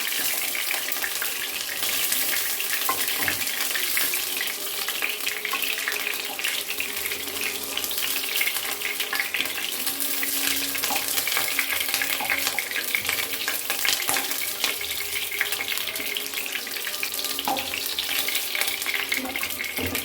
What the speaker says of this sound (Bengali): আর কয়েকটা আছে, সেগুলো ভেজে দিচ্ছি।